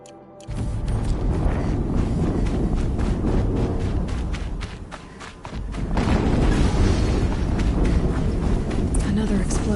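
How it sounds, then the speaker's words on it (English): Explosions in the video game Horizon Zero Dawn, heavy booming blasts that swell into a loud, sustained rumble, easing briefly before a second surge of thunderous noise. "Another explosion."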